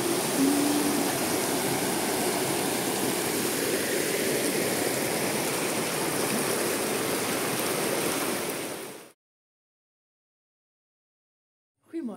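River flowing beside rice fields, a constant broadband rush of water heard close and loud for about nine seconds, then cutting to silence.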